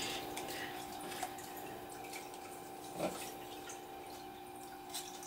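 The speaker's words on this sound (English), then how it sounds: "I'm gonna go wash my hands." Tap water runs steadily while hands are washed at a sink, a constant close hiss with faint splashes and a soft drip or two, and no voices.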